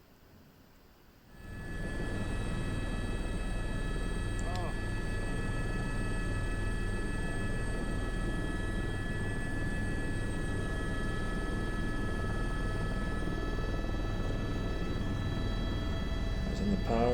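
Helicopters flying over sling load approaches make a loud, continuous, droning rotor and engine roar that swells in after a quiet start and holds steady throughout.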